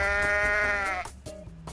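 A goat in the video game Goat Simulator lets out one long, loud, harmonic bleat lasting about a second, followed by quieter game noises.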